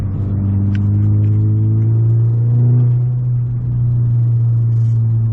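A VW MK6 Golf GTI with its turbo muffler deleted idles and gently revs, giving a steady, loud, close-up low drone that swells briefly midway before settling back.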